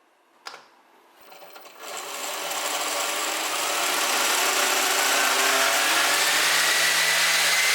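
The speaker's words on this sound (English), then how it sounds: "it sure does sound like it's making a lot of fuss for very little thrust" A homemade brushless motor built from LEGO spins a propeller at high speed. After a sharp click, it rises into a loud, high, steady whine that keeps building and holds to the end.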